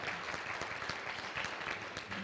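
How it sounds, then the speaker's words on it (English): Applause rises from the audience at a university Three Minute Thesis competition, a steady patter of many hands heard from a distance at low level, individual claps faintly distinct, no one talking. "You can give them a round of applause."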